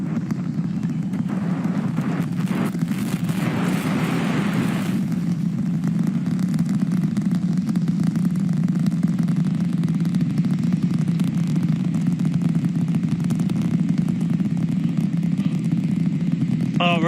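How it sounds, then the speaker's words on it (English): The Raptor engines of a SpaceX Super Heavy booster roar during a Starship launch, a loud continuous low rumble that holds steady throughout, with a brief crackling surge near the start. "We're seeing 32 out of 33 engines lit on the Super Heavy right now."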